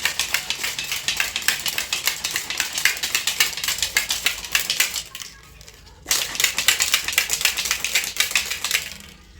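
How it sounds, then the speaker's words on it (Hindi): Protein powder and water shaken in a plastic shaker bottle, a fast, loud, rhythmic rattling and clattering that runs for several seconds, breaks briefly, then resumes, close up with no talking. "थोड़ा सा शेक कीजिए।"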